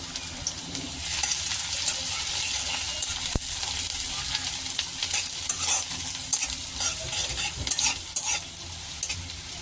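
Onions frying in smoking-hot mustard oil in a pan, a steady close sizzle with scraping stirs and one sharp clink, no voices.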